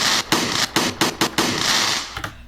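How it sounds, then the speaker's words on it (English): A fireworks sound effect crackles and pops in dense, loud bursts, with several sharp bangs punctuating a continuous sizzling roar that cuts off abruptly. "We selected the part of the fireworks sound that I wanted."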